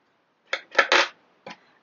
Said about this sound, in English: snip off my yarn